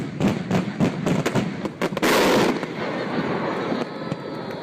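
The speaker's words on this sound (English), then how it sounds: "Here are what daytime fireworks look like." Daytime fireworks exploding in a rapid string of sharp cracks and thumps, building to a dense crackling burst, then fading into a lingering rumble.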